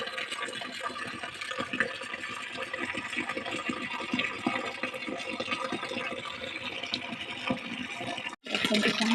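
Heavy rain falls in a steady, dense wash with a splashing, watery texture close by, continuing without a break until a brief cut near the end.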